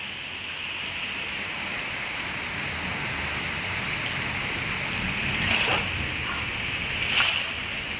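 Steady rain falling, a continuous soft hiss with a couple of slightly louder splashes near the end.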